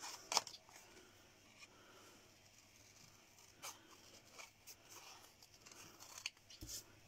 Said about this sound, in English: Okay, so we're just going to cut this out.